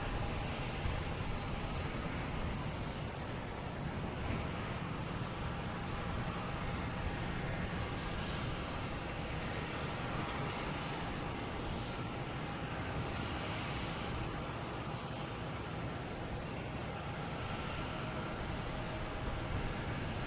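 A British Airways airliner at Boston Logan Airport gives off a steady, distant broadband jet rumble that holds evenly throughout, fairly faint, with no talking.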